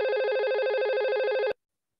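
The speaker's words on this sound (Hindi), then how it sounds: "आपको रिंग बज रहा दोनों की तरफ" A warbling electronic telephone ring sounds loudly and continuously for about a second and a half, then cuts off abruptly into silence.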